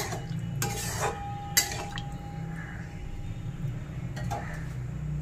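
Water goes into a pan of low-oil foli fish curry and is stirred, giving a few sharp metal clinks and knocks against the pan over a soft background hiss, close by, with no talking.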